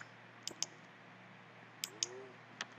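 A computer mouse clicks sharply and close during Minecraft play, in a few separate pairs of quick clicks with quiet gaps and faint room hiss between them.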